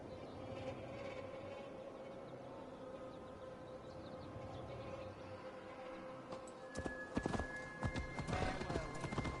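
Horse hooves clopping in Assassin's Creed Valhalla while riding through a Gloucestershire forest, a soft steady gait under quiet ambience, turning into sharper, louder hoof strikes near the end.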